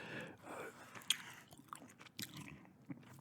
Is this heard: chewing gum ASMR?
yes